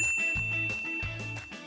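A notification bell sound effect rings out as a few bright, clear dings with a sustained tone under a low thumping beat, loud and close, with no talk.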